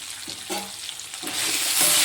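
Ridge gourd peel sautéing in a pan, a close, steady sizzle with scraping stir strokes that grows louder toward the end, with no voices.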